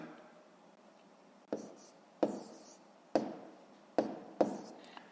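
A pen writes numbers by hand during a fifth-grade math division exercise, with five sharp taps and short scratchy strokes spaced irregularly over quiet room tone.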